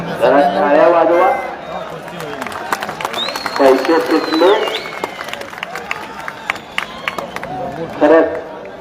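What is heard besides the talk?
crowd applauding at wrestling match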